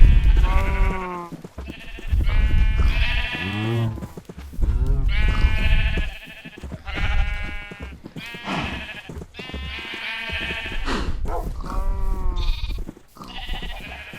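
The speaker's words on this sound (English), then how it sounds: "Boy, it's noisy in this barnyard." Sheep and goats in a video game barnyard bleat loudly and close, one call after another in wavering, quavering cries separated by short pauses, with no talk.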